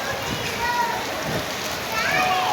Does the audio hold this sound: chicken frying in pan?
no